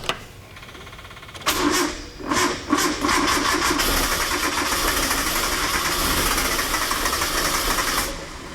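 An old car engine cranks in a few short bursts, then catches and settles into a steady, loud, busy running note that carries on to the end, with a jump starter connected.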